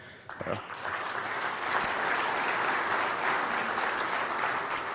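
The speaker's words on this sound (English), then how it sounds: "So actually I want to applaud Kurt and for a job well done so far." Sustained audience applause at a tribute event, a dense steady wash of many hands clapping that swells after a brief start and holds loud and even throughout.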